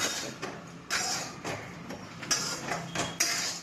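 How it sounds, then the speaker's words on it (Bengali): Kochu (taro) pieces tossed with chili powder in a pan, a spoon scraping and clinking against the metal in repeated strokes, close and fairly loud with no talking. "দিয়ে ভালো করে নাড়াচাড়া করে কচুগুলা খেতে খুব স্বাদ"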